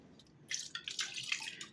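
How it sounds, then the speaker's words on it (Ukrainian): Liquid seasoned with salt and a little sugar is poured over cabbage rolls stuffed with rice and meat in a pot, a soft splashing trickle that starts after a brief quiet and continues steadily, close and fairly faint. "І виливаю я це"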